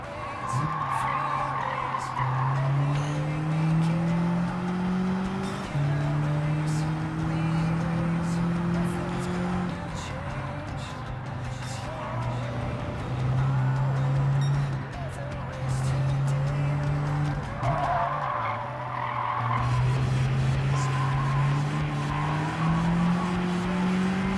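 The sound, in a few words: car driving in Gran Turismo 7 video game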